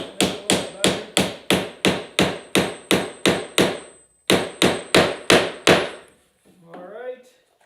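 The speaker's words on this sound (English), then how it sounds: "Whenever you're using a hammer, you want to put your hand near the back of the hammer." A hammer strikes a nail into wood in a steady run of about fourteen sharp, close blows, pauses briefly, then lands six more before a voice speaks.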